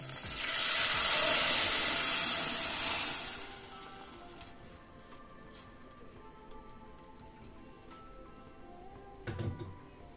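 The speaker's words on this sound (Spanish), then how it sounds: "le vamos a poner un chorrito de aceite para poder freír la salsa" Green salsa fries in a splash of oil in a small pot, a loud bright sizzle for the first few seconds that fades to a quiet steady simmer with a faint clink near the end.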